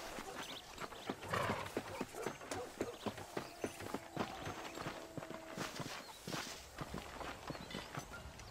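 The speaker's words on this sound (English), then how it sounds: "Getting shot, then riding a horse seems to take it out of you." Horse hooves clip-clop at a steady walking rhythm while riding in the Red Dead Redemption video game, with close, even footfalls, a brief snort and some faint background sound.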